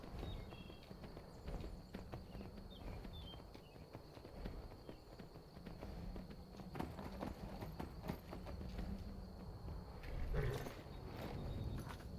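Horse hooves galloping in the video game Skyrim, a rapid, irregular clatter of hoofbeats over game background sound, fairly faint and close, with a louder burst near the end.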